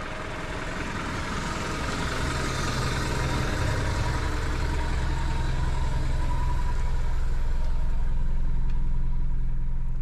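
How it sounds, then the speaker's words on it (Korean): A Mercedes-Benz E200 Avantgarde with a 48V mild hybrid system idles smoothly after starting, a steady low engine hum that holds even and close for about ten seconds with no talk. "시동을 걸면 아주 부드럽게 스르륵 걸립니다."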